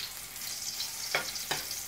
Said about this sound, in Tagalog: Gigisa lang natin siya hanggang sa mag-brown.